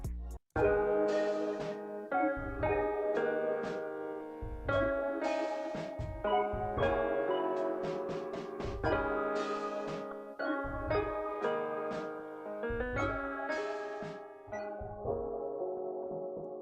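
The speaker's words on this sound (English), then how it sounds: "To get this filtering effect right here at the end of the intro, I use this low filter plugin." A vintage soul-style sample intro plays alone: warm chordal keys in repeated stabs and sustained phrases, with a low filter effect dulling the top end as the intro closes.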